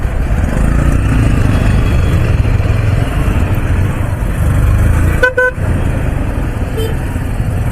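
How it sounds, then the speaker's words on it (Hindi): Road traffic recorded from a motorbike, with a dense, loud engine and road rumble throughout and a brief burst of car horn honking near the end. "ओ भाई ट्रैफिक देखो, ट्रैफिक कैसी है।"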